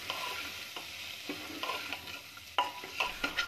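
Turmeric, red chili powder and salt frying in a pan on low flame while being stirred, soft sizzling under repeated scraping strokes of a spoon, close and fairly quiet.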